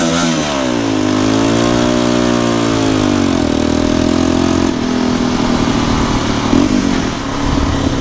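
A Yamaha Raptor 350 YFM quad's engine running up close, revving up and down with loud rising and falling pitch, then settling into a steadier drone, with no talk over it.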